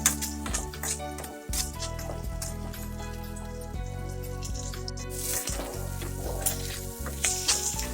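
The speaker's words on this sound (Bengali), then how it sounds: "পেঁয়াজটা আমার ভাজা হয়ে গেছে" Onions frying in oil crackle and sizzle steadily for several seconds, with dense popping spatter and occasional louder clatters, close and alone without talk.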